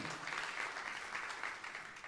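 Church congregation clapping during a sermon, a soft, fairly distant patter of applause that stays even and quiet throughout.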